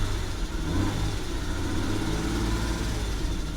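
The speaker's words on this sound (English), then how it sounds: "Let's give it a little gas." A 2007 VW Passat engine revving steadily, a continuous loud mid-pitched drone heard close up, with a possible misfire at certain RPMs.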